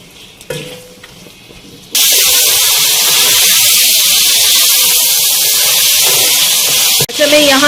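Chicken fries in a karahi together with whole tomatoes and whole green chilies for Balochi karahi. A loud, steady sizzle comes in suddenly and holds unbroken for about five seconds, then cuts off. A short burst of stirring follows.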